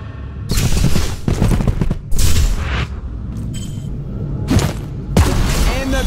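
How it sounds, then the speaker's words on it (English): Heavy bursts of gunfire and a booming grenade blast erupt in Showgunners, a turn-based tactical RPG, several loud impacts in quick succession with brief gaps between them, with some voice faintly mixed in. "And the grenade finds its mark!"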